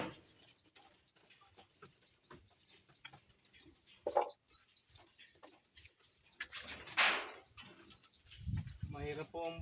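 Breeding pigeons coo in a steady repeating rhythm close by, with occasional wing flaps and chirps and a brief burst of other bird calls near the end.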